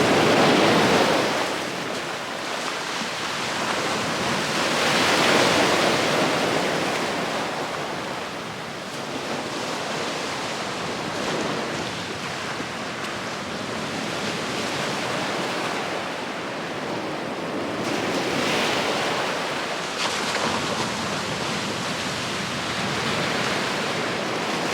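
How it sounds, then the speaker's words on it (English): Sea waves wash over rocks on a sandy beach at Saltwick Bay near sunset, a steady broadband surf roar that swells and recedes in slow surges, close and loud with some wind noise on the microphone. "how the patterns are forming when the sea interacts with the rocks on the sand"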